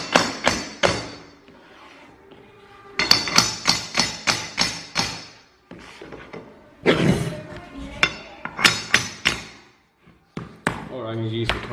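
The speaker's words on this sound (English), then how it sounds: "Now you need to take the hammer and tap it in." A hammer taps a vinyl plank into place on a floor, bursts of sharp close knocks in quick runs of several strikes, separated by short quiet gaps.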